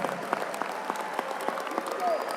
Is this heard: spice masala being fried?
no